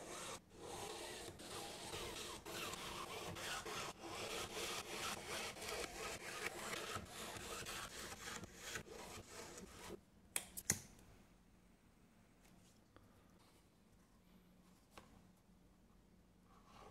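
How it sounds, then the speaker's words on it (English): Leather bag pieces being hand sewn, with steady scratchy rubbing and tapping strokes for about ten seconds, then a couple of sharp clicks and quieter faint handling. "Then we can start sewing everything together."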